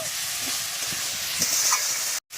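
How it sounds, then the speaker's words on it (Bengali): Spice paste for a winter-vegetable khichuri sizzles and fries steadily in a pan, a close, continuous hiss with faint stirring scrapes underneath, cut off by a short silence near the end. "এবার আমি আরও একটু নেড়ে চেড়ে লাবিয়ে নেব।"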